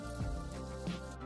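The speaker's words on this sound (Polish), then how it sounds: "Te śledziki nam się smażą" Herrings fry in oil in a pan with a soft, continuous crackling sizzle, fairly faint and even throughout.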